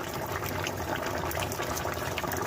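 Tilapia curry with mustard paste boils in a pot, giving a steady, close, continuous bubbling and seething wash without any talking.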